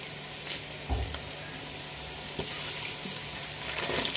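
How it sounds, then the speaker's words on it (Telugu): Onions and bay leaves fry in oil in a pan for pulao, a continuous close crackling sizzle with a few light knocks from stirring. "ఉల్లిపాయ కొద్దిగా వేగిన తర్వాత పలవాకు వేసుకుందాం"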